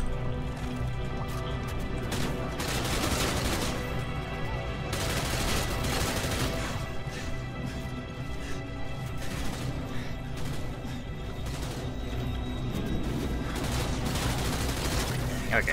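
Sniper rifle gunfire in the video game Modern Warfare 2, with loud, dense shots and game explosions running steadily throughout, with voices faintly mixed in.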